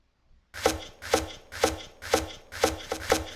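Chopping in the video game Towns: six evenly spaced, sharp chop impacts repeat in a steady rhythm, loud and clear with no talk.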